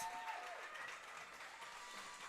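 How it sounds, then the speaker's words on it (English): Crowd cheering and applauding at a varsity boys lacrosse game just after a goal, a steady, distant wash of claps and cheers filling the whole short stretch without a break. "That's 4 goals now in the fourth quarter as the crowd goes nuts."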